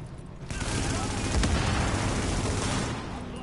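A grenade blast and gunfire in The Division video game, a rumbling explosion followed by sustained rattling bursts of shots under continuous game noise, with a voice talking over it.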